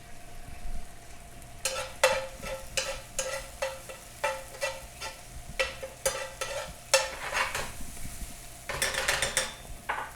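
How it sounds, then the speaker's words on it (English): Sliced garlic goes into a hot pan for rice while a metal utensil clatters and stirs, giving a steady low sizzle broken by repeated sharp scraping and tapping strokes at close range. "We're gonna get a little bit of garlic in here. Okay, we use sliced garlic for this."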